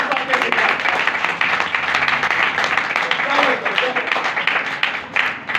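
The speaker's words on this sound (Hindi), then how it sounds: "जोरदार तालियां" A church congregation claps vigorously during a Hindi-language sermon, with dense, pulsing applause and voices mixed in throughout.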